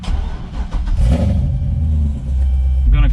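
A C6 Corvette fitted with a Vararam cold air intake rumbles and revs in a strong, steady low drone while driving, with the engine note rising and falling slightly throughout.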